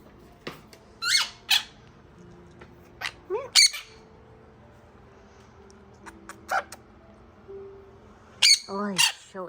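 An angry Quaker parrot or sun conure squawks indoors in sharp, loud bursts, several harsh calls spread irregularly, with a quiet room hum underneath and no talking.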